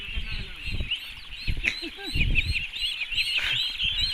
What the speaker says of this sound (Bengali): হাঁসটার নাম হলো পিকিন